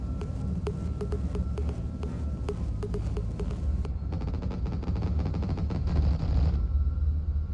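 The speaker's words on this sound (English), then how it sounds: "A chicane opened fire with its cannon, but luckily it didn't hit me." Rapid aircraft cannon bursts from an enemy jet in the combat flight game Nuclear Option, sharp repeated cracks over a steady roaring engine drone, with a second denser burst of fire in the middle of the stretch.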